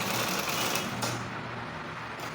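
A sewing machine stitches a curved seam on women's trousers, a brief, steady, close whirring run of rapid stitching with no talk.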